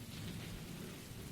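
Steady rain and low rumbling thunder form a dense, continuous wash of storm sound, fairly quiet and with no voices.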